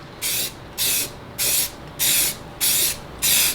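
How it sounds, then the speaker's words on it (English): Six short, even bursts of spray paint hiss onto a roll bar in a steady rhythm, each about a third of a second, with brief pauses between them. "I'm gonna get this sanded down, prepped, and then just spray it"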